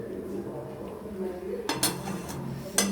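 Chicken curry (chicken kosha) being stirred in a pot, with a steady low bubbling under a few sharp metallic clinks and scrapes of a spoon against the pot.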